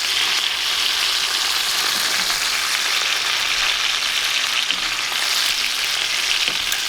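Steak searing hard in a hot pan, a steady loud sizzle and crackle of fat running without pause, close up with no talking.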